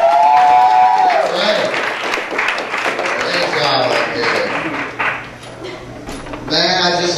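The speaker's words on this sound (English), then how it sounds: "Another big round of applause." Audience applause in a comedy club, steady and loud, fading a little before a brief swell near the end, with the comedian's voice coming in over the clapping.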